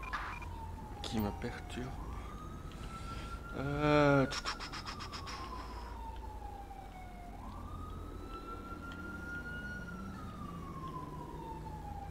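Ambulance siren in the LSPDFR police mod for a video game, a steady wailing tone that rises and falls slowly and holds throughout, joined briefly by a rapid yelping burst, with someone talking over it.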